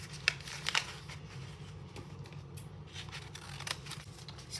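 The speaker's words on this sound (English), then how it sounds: "So let's just cut off this and open it from the crown." Scissors snip open a plastic Adopt Me blind bag package, a few sharp cuts followed by crinkly rustling and handling of the wrapper, close up with no talking.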